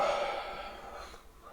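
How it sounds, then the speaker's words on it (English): A person takes a long, hearty sniff of an old paperback book, a single breathy inhale close to the microphone that fades out over about a second and a half. "let's go in right into the middle and take a hearty good sniff"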